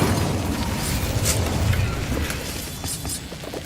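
A fire spell cast in the Hogwarts Legacy video game gives a sustained rumbling, crackling burst with a boomy low end and hissing bright flares, loud and steady for the whole stretch with no voices.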